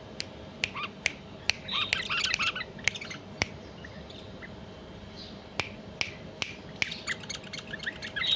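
Caged bulbul birds, a tame mated pair, let out bursts of chirps and squawks, mixed with sharp, regularly spaced clicks that stand out above quiet background noise.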